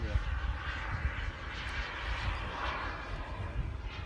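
An XL Boomer model airplane on its maiden flight comes in to land, its engine a faint, steady droning hum in the distance under people talking nearby.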